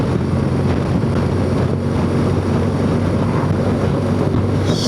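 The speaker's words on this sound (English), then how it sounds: "Didn't realise it was this windy when I left home." Heavy, constant wind buffeting roars across the microphone of a rider on a BMW R1200GS motorcycle along a coastal road. The broadband rushing is loud and unbroken, and no one speaks.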